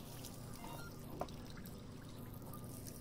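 Water pours steadily as a soft, continuous trickle in a cooking scene in the VR game Job Simulator, faint and unbroken throughout with one small clink partway.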